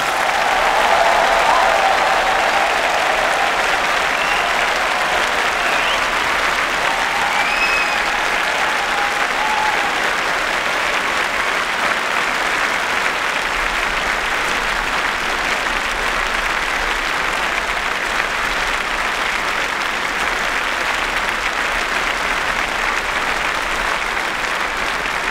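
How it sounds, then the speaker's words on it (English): A large audience at an engineering faculty graduation ceremony claps for new graduates in a dense, sustained round of applause that fills the hall at a steady level. "can I have one last big round of applause for our new graduates?"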